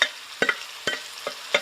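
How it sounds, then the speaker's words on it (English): Onions sizzle in a hot pan while a utensil stirs them, with a steady low hiss and several soft scraping taps. "we're going to be frying ourselves up some decent onions here."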